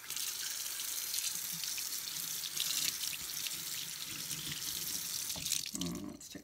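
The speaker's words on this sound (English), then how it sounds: "So we're gonna rinse them off and see where we are as far as white marks are." Tap water running steadily into a sink while Breyer model horses are rinsed, a continuous close splash and hiss that ends with a brief clatter of handling.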